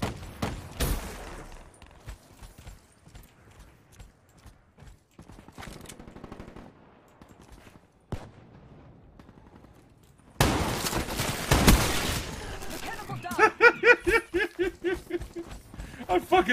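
Gunfire from a shotgun in Black Ops 3, with scattered quieter game sounds early on, then a loud burst of dense shots near the end followed by a rapid run of evenly spaced blasts.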